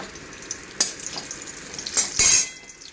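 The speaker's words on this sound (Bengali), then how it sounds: "এখন এদিকে তেল বসিয়ে দিলাম তেজপাতা শুকনো লঙ্কা" Bay leaf and dried red chilli frying in hot oil, with a faint steady sizzle and a few sharper crackles and pan clinks, the loudest burst of spitting near the end.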